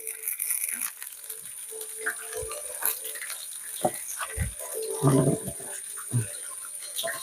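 Quicklime made from burnt shells crackles and pops after a little water is sprinkled on it, giving a close, scattered run of sharp snaps and crunchy bursts under a faint steady hiss.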